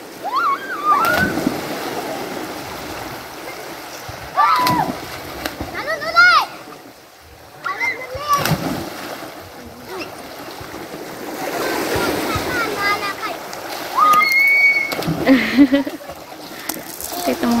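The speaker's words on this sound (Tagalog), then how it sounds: "nakita ko po ang ilang mga bata na masayang naglalaro at lumalangoy sa dagat" Children splash and swim in the sea off a coastal village at Masanga Point, General Nakar, Quezon, with steady surf and water sloshing throughout and repeated bursts of excited kids' shouts and chatter close by.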